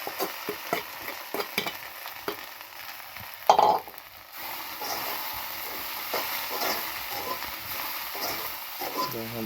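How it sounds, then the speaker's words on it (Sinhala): Cassava leaves and curry leaves sizzle in hot oil, with a sharp clatter as they drop in, then steady frying hiss and scraping stirs throughout. "දැන් අපි මේක තෙලට දාගමු."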